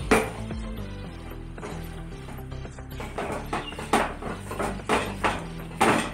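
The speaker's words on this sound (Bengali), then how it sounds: "এবার ডালটাকে আমি ভেঙে গুঁড়া করে দেবো এইভাবে আস্তে" Cooked lentils for dal puri being broken and ground into powder, a steady run of close grinding and rattling mechanical noise that builds into repeated rougher scraping strokes.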